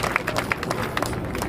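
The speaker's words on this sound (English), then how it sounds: "let's clap it up, give yourselves a hand for being out today" Outdoor rally crowd against deportations applauding, dense clapping with sharp individual claps over a busy crowd murmur, close and loud for a short stretch.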